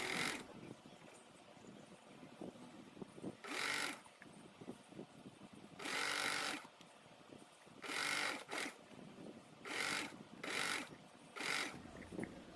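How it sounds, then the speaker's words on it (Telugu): A sewing machine stitches slowly around a blouse neckline in several quiet, separate bursts of rapid whirring. Each burst lasts about a second and is separated by pauses with light handling noise. "బ్లౌజ్ నెక్ని స్లోగా కుట్టడం వల్ల నీట్గా వస్తుంది."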